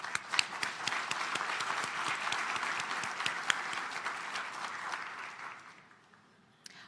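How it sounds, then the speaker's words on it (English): An audience at a South Carolina business breakfast briefing gives a round of applause, a dense sustained patter of clapping close by that fades out near the end. "Please join me in a round of applause."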